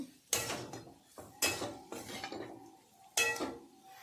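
A spoon stirs a roll filling mixed with a spoonful of flour in a pan, three sharp metallic clanks against the pan, each trailing into softer scraping, no voices.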